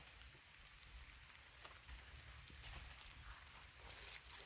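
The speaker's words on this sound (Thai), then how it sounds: "ฝนตกลิ่น" Light rain falls in a forest, a steady soft patter of drops on leaves and ground that stays even and fairly faint throughout.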